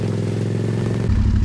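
A Yamaha MT-07 motorcycle engine runs loud and close with a steady throbbing idle that deepens into a heavier rumble partway through.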